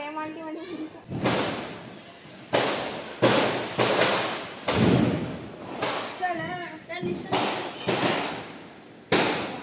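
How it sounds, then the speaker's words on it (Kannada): Firecrackers burst on a festival day after rain eases. About a dozen sharp, loud bangs come at uneven intervals, some followed by crackling tails, with people talking between them. "ಮಳೆ ಕಡಿಮೆ ಆದ್ಮೇಲೆ ಇವಾಗ ಬಂದ್ರು ಎಲ್ಲ ಪಟಾಕಿ ಹೊಡಿಯಕ್ಕೆ"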